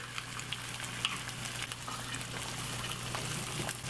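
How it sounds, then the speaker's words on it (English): Eggs fry in a big pan with a soft, steady sizzle and light crackle, quiet and close, with a low hum underneath. "It works better if you have a big pan and your eggs don't touch each other when they cook."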